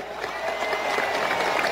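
A studio audience applauds in a dense, continuous burst of clapping, moderately loud and without speech over it.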